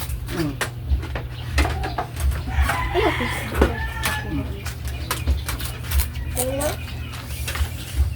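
Chickens clucking and cooing close by in short, irregular bursts, with people talking and a steady low hum in the background.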